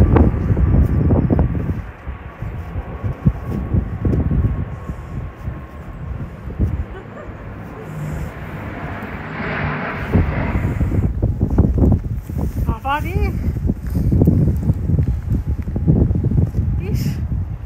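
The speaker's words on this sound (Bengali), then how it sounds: "কি জোরে হাওয়া দিচ্ছে।" Strong wind blowing during a heavy snowstorm in Sweden, buffeting the microphone with loud rumbling gusts while a person talks over it nearly the whole time, and a dog barks faintly.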